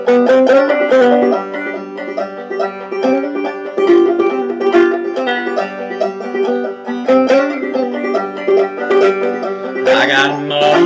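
Guitar adaptation of a song running through intro, verse and chorus: plucked notes and strummed chords in a steady rhythmic pattern, close and fairly loud, with no singing.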